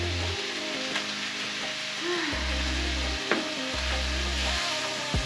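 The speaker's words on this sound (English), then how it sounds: "put the garlic in there, along with the chipotle paste, fajita spice mix, lime juice, and beer, and stir to coat" Garlic, chipotle paste, fajita spice mix, lime juice and beer stirred together in a pan for beef nachos, heard as a soft sizzle with light utensil scraping and clinks, while low background tones hum on and off.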